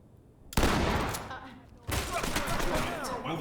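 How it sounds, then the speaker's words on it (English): In the tactical shooter Ready Or Not, a shotgun breach and a flashbang go off as two loud, sudden blasts about a second apart. Each leaves a noisy rumbling tail, and muffled voices sound underneath. "We will breach this with a shotgun and a Move flashbang."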